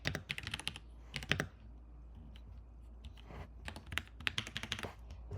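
Quiet clicking keystrokes on a computer keyboard as a short message is typed, coming in quick bursts separated by brief pauses, close and alone with no talk.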